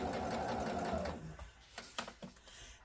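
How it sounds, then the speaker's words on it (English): A domestic sewing machine with a normal presser foot stitches down a small scrap of fabric used as a leader, running in a steady close whir, then stopping with a few separate clicks and clunks. "I call it leader, and sew it down."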